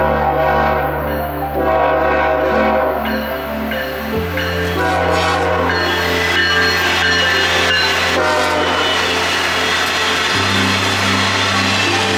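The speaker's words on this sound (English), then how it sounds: "I caught another westbound intermodal train, giving me a nice horn show" Westbound intermodal freight train blowing its horn repeatedly, loud sustained multi-tone blasts changing pitch in long stretches, close by, with engine rumble underneath and no talking.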